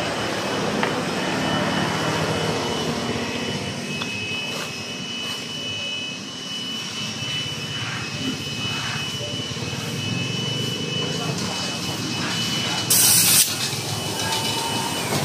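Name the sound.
air compressor inflating motorcycle tire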